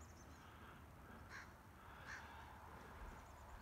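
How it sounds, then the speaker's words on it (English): A crow caws twice from some distance, each call brief and fairly faint, over steady outdoor background noise beside a road. "There's that crow. You can't see him."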